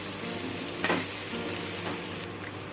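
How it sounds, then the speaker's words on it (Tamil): Tapioca and coconut fry in a pan as a spoon stirs them, a steady close sizzle broken by a couple of scraping sweeps, with no talking. "இப்போ இது எல்லாத்தையும் நல்லா கலந்து விடுங்க"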